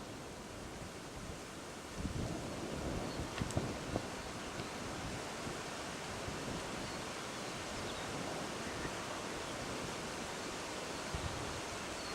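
Wind buffets a microphone outdoors on open farmland during a bloodhound manhunt event, a constant broad roaring rumble with a few thumps, steady throughout and with no voices.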